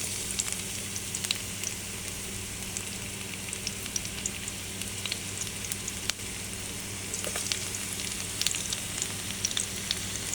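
Garlic sizzles in hot cooking oil in a pan, a steady, soft crackling hiss with scattered pops, continuous and alone.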